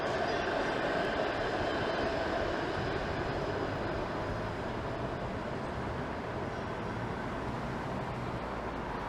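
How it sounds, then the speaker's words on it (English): A 506 Carlton streetcar passes along a downtown Toronto street, a steady, loud rumble of wheels and motors that fills the whole stretch with no talk. "There goes a 506 Carlton streetcar."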